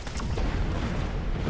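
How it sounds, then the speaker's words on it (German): Dense, continuous booming gunfire and explosions as units fire on Panther units in the Mechabellum strategy game, loud and heavy throughout with no gaps. "jetzt müssen wir seine Panther abknallen"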